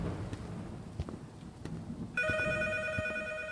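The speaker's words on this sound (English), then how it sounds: "Your sound cues are not leading me to where this phone is." A telephone in a horror video game starts ringing partway through, a steady electronic trill following quieter thuds and ambient noise.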